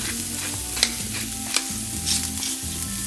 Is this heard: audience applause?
no